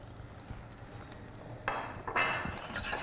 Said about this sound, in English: Okay, while that's sizzling away,